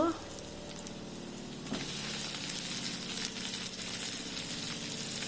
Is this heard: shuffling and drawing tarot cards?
no